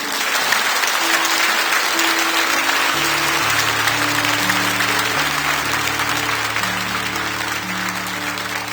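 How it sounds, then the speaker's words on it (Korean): A church congregation applauding in a sustained, loud wash of clapping from a large crowd, with sustained organ or keyboard notes sounding underneath partway through. "우리 다시 한번 귀한 나연자매 큰 박수로 축복합니다."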